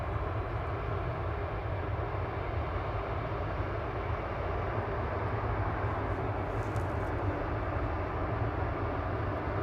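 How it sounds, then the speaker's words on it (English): A Qatar Airways Boeing 787-9 Dreamliner at Manchester Airport produces a steady, broad jet-engine roar with heavy low rumble, continuous and fairly distant throughout, with no talk. "But heading back to Doha, Qatar flight 22 A7BHA 787-9 Dreamliner."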